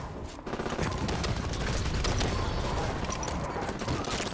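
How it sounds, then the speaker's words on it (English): An incineration cannon fires in the Halo 5 video game, a dense roaring barrage of blasts and explosions that fills the whole span loudly after a brief quieter start. "Oh, incinerary cannon."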